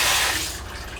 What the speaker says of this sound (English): mung bean sprout, it's very fresh, so I have to wash it first before cut it.